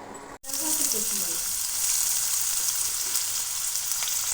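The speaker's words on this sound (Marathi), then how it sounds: "आता हे सर्व आपण थोडंसं तेल टाकून हे सर्व आपण भाज्या भाजून घेणार आहोत" Sprouted moth beans, capsicum and coriander hitting hot oil: a brief soft clatter gives way to a loud, even, close-up sizzle that stays steady throughout.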